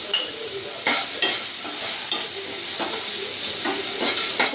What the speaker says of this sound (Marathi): मिनिटभर परतून घेऊया याला आपण.